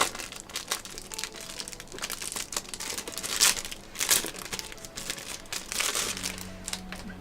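Plastic wrap crinkles and crumples as it is peeled off a Dark Souls 2 art book, a close, continuous rustling with louder tearing bursts, no voices.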